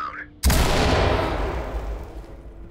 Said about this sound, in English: Ready for flashbang.